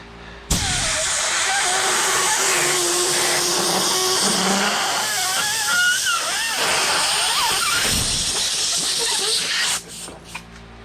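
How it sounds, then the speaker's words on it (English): A loud, sustained hiss of compressed air is blown under a motorcycle hand grip during an e-bagger conversion, running steadily for about nine seconds before cutting off abruptly, with a few small knocks after. "Compressed air underneath that hand grip."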